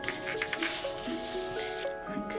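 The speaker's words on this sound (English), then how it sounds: "And then I'm just going to burnish it." Glued paper cover on a hard cover junk journal being burnished by hand, a soft, continuous rubbing swish close by and faint, with music or tones playing underneath.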